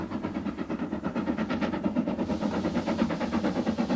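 A steam locomotive on the West Highland line in 1988 works hard, giving a rhythmic run of sharp, evenly spaced exhaust chuffs over a rumbling engine, fairly loud and unbroken throughout.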